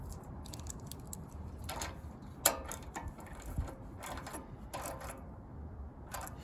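A socket wrench ratchets on the bolts of a Bolens/MTD 22 inch snowblower, giving short bursts of close metallic clicking with pauses between strokes and one sharper clack partway through.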